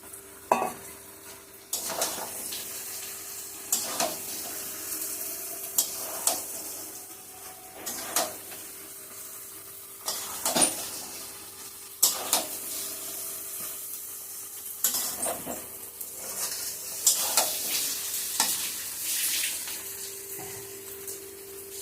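Paneer and chickpeas sauté with spices in a pan, a continuous sizzle broken by repeated scraping stirs and clanks of a utensil against the pan, close and fairly loud, no voices.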